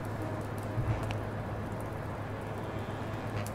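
Rain falls in Blacksad: Under the Skin as a steady, dense hiss that stays even and unbroken throughout, with no voices over it.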